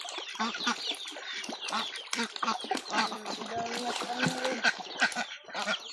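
Chickens cluck and squawk close by in a busy, overlapping flock, with a person talking among them.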